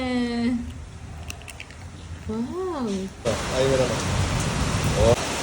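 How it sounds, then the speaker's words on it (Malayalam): Dense hiss of heavy, wind-driven rain pouring down, with a voice speaking over it early on and the downpour growing louder toward the end. "ഇത്ര നാളും മഴയില്ലാത്തതിന് നല്ല ഒന്നൊന്നര മഴ കിട്ടിയിട്ടുണ്ട് നമുക്ക്"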